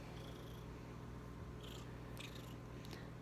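A cat purrs steadily and softly up close, a low continuous rumble with faint rustling.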